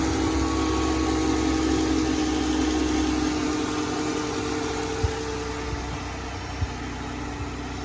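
A 3.6 Pentastar engine runs at a steady idle after oil filter housing work, a moderate continuous hum with a fan-like whir and a few faint clicks and knocks near the end.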